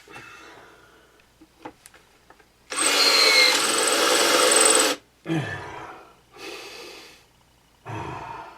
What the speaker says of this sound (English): Drilled with a couple of different drill bits.